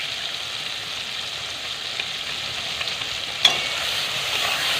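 Tomato and spices frying in a pan, with a steady close-up sizzle throughout and a single light clink of the stirring utensil partway through.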